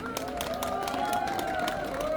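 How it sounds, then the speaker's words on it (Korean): A crowd at an outdoor candlelight protest rally claps and cheers steadily, a dense continuous wash of applause with voices mixed in. "스스로의 박수 부탁드리겠습니다"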